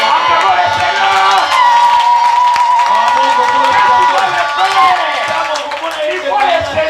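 A church congregation acclaims the Lord with loud, continuous crowd cheering and clapping, voices shouting over steady applause close by for several seconds.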